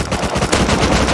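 A loud, rapid burst of automatic gunfire from the game Rust fills the whole moment, close and unbroken.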